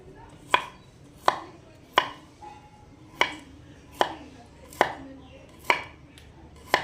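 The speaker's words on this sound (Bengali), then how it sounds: "আমি হলুদটা কেটে ছোট ছোটো করে নিচ্ছি আগে" A knife chops fresh turmeric into small pieces on a cutting board, about ten sharp, evenly spaced thuds close by, each ringing briefly against a quiet kitchen background.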